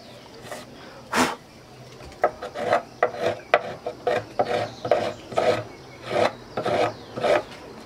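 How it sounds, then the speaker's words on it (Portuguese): A hand wood chisel being worked along a piece of wood while building a tool holder gives a series of short, close rasping scrapes in an uneven rhythm, with one sharper knock near the start. "passar o formão assim, ó,"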